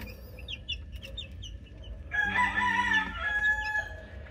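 Native chicks, 23 days old and of mixed cross breeding, calling from inside a freshly cleaned cage: a few soft chirps, then a louder, longer crowing-like squawk from one bird nearby.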